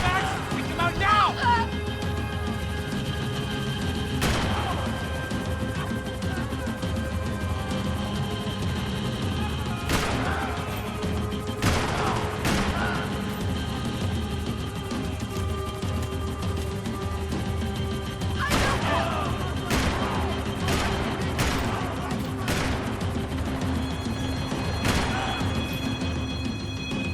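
Gunfire in Max Payne 3 during a vehicle chase, with repeated sharp shots and crashes scattered through the clip under constant engine roar, with shouted voices over the top.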